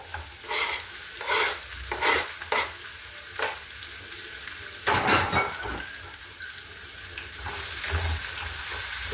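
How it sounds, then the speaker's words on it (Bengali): Chopped onion fries in a pan with a low continuous sizzle, punctuated by repeated stirring scrapes and occasional spatula clinks, close by and quiet, with no voices. "এবার আমরা এর মধ্যে পেঁয়াজ কুচি দিয়ে দেব।"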